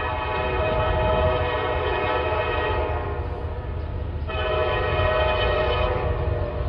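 An SD40-3 diesel locomotive hauls a heavy, maxed-out freight train in notch 8, a loud, steady throbbing engine drone with a strong tonal whine that dips briefly midway and then returns to full strength.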